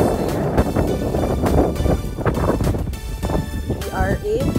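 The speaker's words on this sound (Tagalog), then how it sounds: "Ang lakas ng hangin." Strong mountain wind at Tineg, Abra, buffeting the microphone with a loud, continuous rumble under speech.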